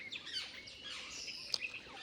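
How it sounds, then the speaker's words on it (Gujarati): Sparrows chirp on a hill, quick thin tweets scattered across two seconds, faint and somewhat distant against a quiet outdoor background. "અને એ મસ્તીના ચકલા બોલે છે જો સાંભળો"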